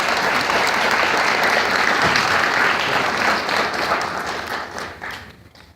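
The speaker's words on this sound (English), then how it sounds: "the Botanical Gardens deserves a round of applause for always opening their doors to our community" A workshop audience at the New York Botanical Garden gives a loud, dense round of applause that holds steady for several seconds, then thins and fades out toward the end.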